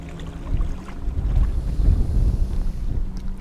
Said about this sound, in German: Der Wind frischt wieder auf.